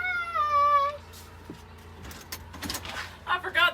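A pet cat at home gives one long, wavering meow up close, followed by jangling keys, a door handle rattling and people talking quietly nearby.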